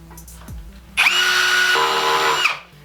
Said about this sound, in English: make sure you have the correct masonry bit and you have a hammer drill